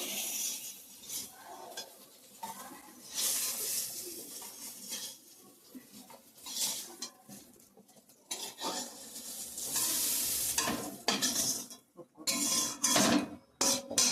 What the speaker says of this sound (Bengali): আলুটা ভেজে রাখছি